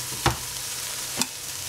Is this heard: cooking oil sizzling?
yes